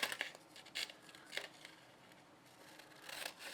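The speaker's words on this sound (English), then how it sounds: "So I'm going to go ahead and cut out the test strips," Scissors snip through paper test strips in short, separated cuts, quiet and close, with brief bursts spaced a second or so apart and soft rustling between.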